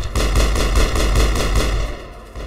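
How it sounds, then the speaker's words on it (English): Loud, rapid automatic gunfire in the sci-fi shooter Mass Effect, a steady stream of evenly spaced shots close by, lasting about two seconds before cutting off, with no talk. "Stop shooting me."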